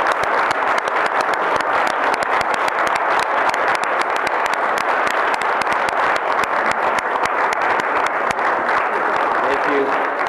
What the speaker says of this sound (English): let's have a big round of applause for all 6